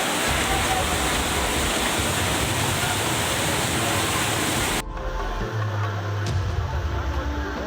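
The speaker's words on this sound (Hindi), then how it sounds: "राजकोट जिले में गोंडल नदी की विकराल धारा तबाही मचा रही है।" The Gondal river in Rajkot district rushes in torrential flood, a loud, dense roar of churning water that fills most of the clip before cutting abruptly to a quieter low rumble.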